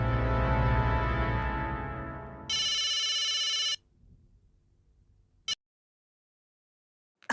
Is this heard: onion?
no